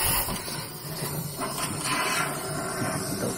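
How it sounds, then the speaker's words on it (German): An airless spray gun hisses steadily as it sprays cavity wax into a car's underbody cavities, a loud continuous broadband rush with slight surges. "Da zischt es richtig aus bei allen"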